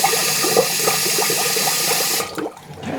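Water pours steadily into a pressure canner being filled for canning chicken, a loud continuous splashing rush that stops abruptly near the end, leaving quieter room sound.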